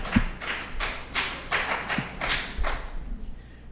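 In the Anguilla House of Assembly, slow, sparse clapping or desk-thumping sounds as a series of about seven separate, moderately loud strikes at a steady pace, without voices over them.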